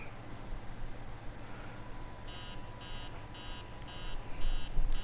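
Alarm clock beeping in a PS4 horror game, starting partway through as a series of short, evenly spaced electronic bursts over a low hum, with some rustling noise rising near the end and no speech.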